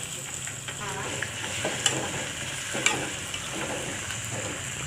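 Chicken for biryani sizzles steadily in hot oil while a spoon scrapes and stirs through it, with a couple of sharper clinks against the pot.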